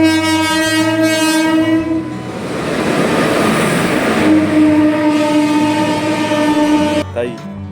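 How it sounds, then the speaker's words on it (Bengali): A train passes through busy Panskura railway station, its loud horn sounding sustained blasts over rumbling wheels and clattering cars, close by and dominating throughout. "প্রত্যেকটা লাইন থেকেই কিন্তু লোকাল ট্রেন থেকে শুরু করে মালগাড়ি এক্সপ্রেস ট্রেন পার হচ্ছে"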